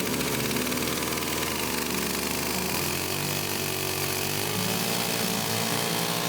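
A small petrol engine, just pull-started by a carpenter building a glass table, runs steadily with a constant loud buzzing drone and no talk over it.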